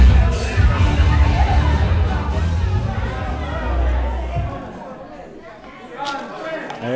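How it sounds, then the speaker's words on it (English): Wrestling arena crowd at a Lions Den event waiting between moments, a loud murmur of chatter and babble with scattered shouts, easing toward quieter hubbub near the end. "the crowd's waiting to see what's going to go on here"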